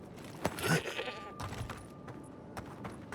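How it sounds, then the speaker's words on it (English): A sheep in the video game Avowed gives a wavering bleat, fairly close and moderate in volume, over a soft game ambience with a few clicks. "Hello, sheep."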